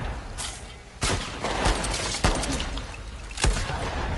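Gunfire in the video game The Last of Us Part II: several sharp, loud shots at uneven intervals over a continuous bed of noisy game ambience, with a brief voice.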